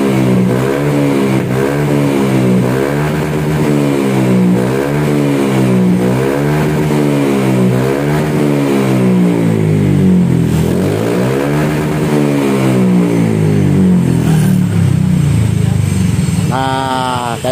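Honda Beat scooter fitted with an SKR racing exhaust revs repeatedly in a steady rising-and-falling pattern, loud and close, with a sharper high rev near the end; no talk over it.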